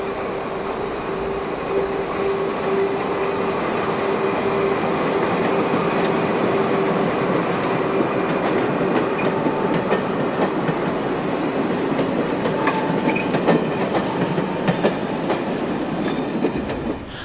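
A Portuguese CP AC electric locomotive hauls its train past in a steady, loud rumble, with wheels clicking over rail joints and a faint squeal running through the continuous roar.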